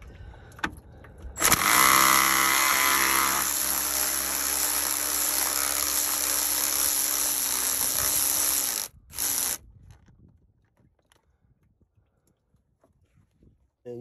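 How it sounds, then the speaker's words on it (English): A 2000–2005 Honda Civic radiator fan assembly bolt, size 10, being spun off with a ratchet: a loud, steady whirring ratchet runs for about seven seconds close up, then stops, with brief clicks afterwards. "now we're gonna go ahead and take this bolt off"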